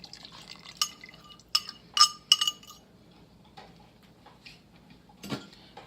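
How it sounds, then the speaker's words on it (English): A fork whisks ingredients in a cup for corn and chili chowder, giving a few light, irregular clinks and taps against the cup over a quiet background, with no talking. "Just want to whisk it because you want to make sure there's no clumps or anything"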